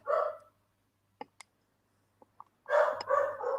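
Dogs barking in a condominium, two bursts of a bark at the start and end with faint ticks between, fairly close and loud in otherwise quiet surroundings.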